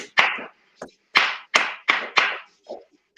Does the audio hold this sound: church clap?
yes